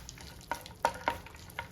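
Faint sizzling of cashews and raisins frying in butter in a pan, with a few soft stirring scrapes at irregular intervals, no voices.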